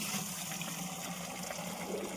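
Hot water pours steadily from a tap, a continuous close hiss of running water that never changes and has no voices over it.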